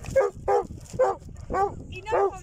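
A dog barks five times in a steady rhythm close by, each bark short and sharp, with faint background noise between them outdoors near the water.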